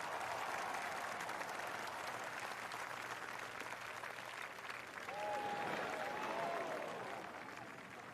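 Golf gallery applauding a bold eagle attempt on the course, a sustained distant spatter of clapping that holds steady and swells slightly near the end, with faint commentary murmuring underneath.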